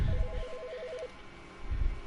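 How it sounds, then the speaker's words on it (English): Telephone in The Stanley Parable video game gives a warbling electronic trill lasting about a second, moderately loud, surrounded by low muffled rumbling, no speech over it. "Phone call."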